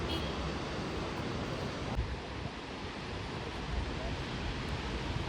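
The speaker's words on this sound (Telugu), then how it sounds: "వాటర్ అయితే అలా ఒక 3 గేట్స్ ఓపెన్ చేసినట్టున్నారు. అవి అలా దారిలా పడుతున్నాయి." Water pouring through three open gates of the Srisailam dam, a steady, loud roar of falling water with broadband rushing noise throughout, no distinct breaks.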